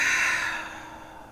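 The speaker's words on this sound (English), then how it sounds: "Breathing." One long pranayama yoga breath, a soft airy exhale that fades over about a second, close and alone without talk.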